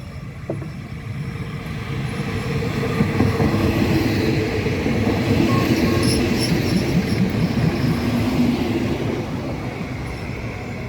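A Thai train rolls past the Pa Sak Jolasid Dam halt, a loud steady rumble of wheels and carriages with faint squeals and clatter, swelling through the middle and easing slightly toward the end.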